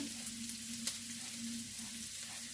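Onion frying in a pan for summer cabbage rolls: a soft, steady sizzle with a constant low hum under it, quiet and close, with one or two faint clicks and no talking.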